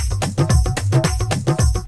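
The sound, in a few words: Dholak rhythm loop over drum machine beat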